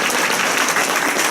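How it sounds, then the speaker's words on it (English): An audience at a church symposium bursts into a big round of applause, dense steady clapping filling the room without talk. "Can you give them a big round of applause?"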